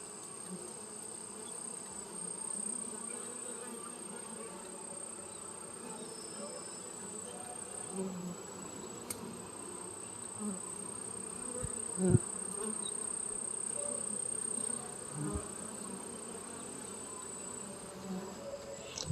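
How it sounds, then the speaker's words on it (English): Honeybees buzz around a hive in a steady, dense drone close by, with a few sharp knocks and clicks rising over the hum. "So here's the bees."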